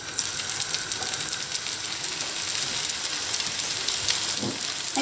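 Chinese spring rolls fry in a bath of hot oil, a continuous close, bright sizzle with fine crackling pops running throughout.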